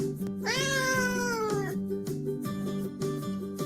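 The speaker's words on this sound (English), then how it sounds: "Look, the cat is running along the yard." A cat lets out a drawn-out, wailing meow, loud and close, over a steady rhythmic musical background.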